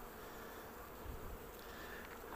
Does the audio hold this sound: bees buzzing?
yes